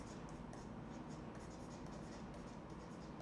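Handwriting on paper or a board while writing out a music theory term, continuous soft scratchy strokes with brief pauses, faint and close over a steady background hiss, no voice.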